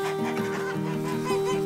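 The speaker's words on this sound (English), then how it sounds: "The geese are all following you, Grace." Geese following a person through a hillside garden give a run of honking, nasal calls with a strong steady tone, several overlapping bursts close by and fairly loud.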